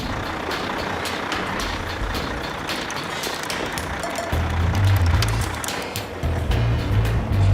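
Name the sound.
heavy haul truck driving onto lake ice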